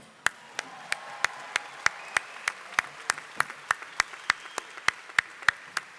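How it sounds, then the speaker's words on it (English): Sharp, evenly spaced claps keep a steady beat, about three per second, at a Thomas J. Watson School of Engineering and Applied Science commencement ceremony in 2016. Each clap stands out clearly over a quiet background. "You're going to do a lot of applauding today, right?"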